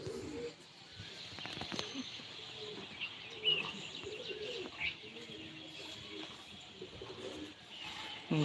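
Pigeons close to a house coo and chirp softly amid outdoor background noise, with occasional brief wing flaps and a few louder calls.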